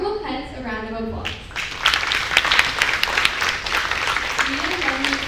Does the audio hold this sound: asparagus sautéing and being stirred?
no